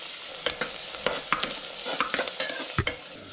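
Onions sizzle in hot oil in a pan as they are fried until brown for sprouts pulao, with a spoon scraping and stirring in a steady, repeated rhythm close by.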